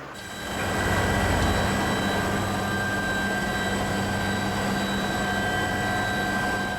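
A navy rescue helicopter, hovering during a storm rescue of a stranded fishing boat's crew near an island, gives a loud, steady engine drone with a constant whine that holds throughout.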